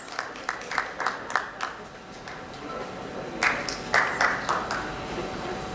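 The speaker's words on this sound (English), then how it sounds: "A round of applause for Dr. Harsh Parekh." Two bursts of audience clapping at a medical lecture, the first a loose handful of claps, then a pause before fuller applause from a small crowd in a room.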